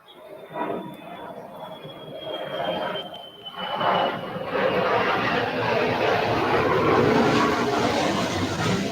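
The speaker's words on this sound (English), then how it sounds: "Airplane." An airplane passes overhead outdoors by a coastal fishing spot, a steady broad roar that swells and holds loud across the clip with no talk over it.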